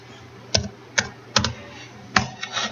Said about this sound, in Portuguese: Então, vou digitar os valores do vetor.